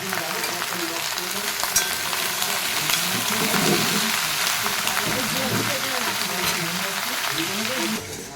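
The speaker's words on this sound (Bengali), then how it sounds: "আলু, কুমড়ো, বেগুন, বাটি আলু, পটল সব কিছু আছে, কাঁঠালের দানা। একটু নুন দিয়ে দিচ্ছি, নাড়াচাড়া দিয়ে ঢেকে দেবো।" Potatoes, pumpkin, eggplant, pointed gourd and jackfruit seeds frying in a pan with salt, a dense steady sizzle with occasional stirring scrapes throughout.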